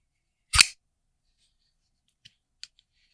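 A Microtech SOCOM Elite knife opened and closed, heard as one sharp, loud metallic snap followed by a couple of faint light clicks, close and with no talking.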